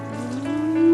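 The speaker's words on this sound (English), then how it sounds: "I like to make a little hole here in the middle to put my water in." Water poured from a measuring cup at the sink into a well made in flour for bread dough, a steady close trickle that rises slightly in pitch as it fills, alone without talk.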